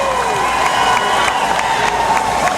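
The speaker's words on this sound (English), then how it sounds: "that's who all these fans, well, at least most of them, are cheering on today" A crowd of fans at the 2009 National Veterans Wheelchair Games opening ceremony cheering as the athletes from Washington walk past, a sustained, dense roar of voices with whoops and shouts filling the space, near and loud.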